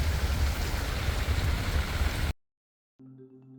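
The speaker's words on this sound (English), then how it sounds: "the skies opened up and it started pouring" Heavy rain pours down in a jungle wildlife reserve during a safari, a dense, loud, steady roar that cuts off abruptly, followed after a short silence by a quieter hum of rain and engine.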